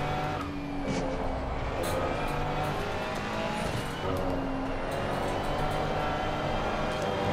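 A Ferrari 296 race car engine at Spa in a racing video game drones loudly and steadily at high revs, holding a continuous close whine with slight rises and dips in pitch.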